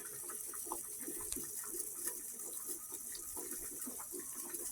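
Water pours steadily from a pot of cooked eggplant into a sink, a soft continuous splashing gush with faint kitchen clatter and no talking.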